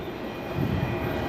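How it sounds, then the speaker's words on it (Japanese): Odoriko 105 limited express arriving at platform 12 of a Japanese station, bound for Izukyu-Shimoda and Shuzenji: a steady, close low rumble of the rolling train that swells slightly midway, with no talk. "まもなく12番線に特急踊り子105号伊豆急下田修善寺行きが参ります。"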